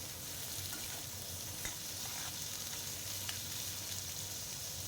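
Boiled jackfruit flower and onions are stirred and fried in a pan. A continuous close sizzle runs throughout, with occasional scraping clicks from the stirring utensil and no voices.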